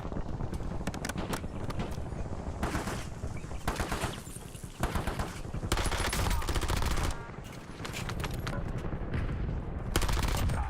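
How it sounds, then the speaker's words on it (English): Rapid bursts of gunfire crack and rattle nearby in Warzone, repeated loud volleys with short gaps between them, under occasional game voice lines. "Incoming shots"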